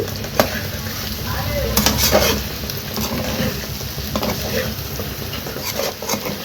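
Chicken fry with powdered masala sizzles in a pan on the stove, a loud steady frying hiss up close, broken by occasional scraping and clinking as it is stirred.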